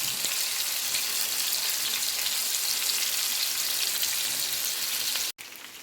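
Pomfret fish shallow-frying in a pan gives a loud, dense, steady sizzle like heavy rain, cut off abruptly near the end before resuming.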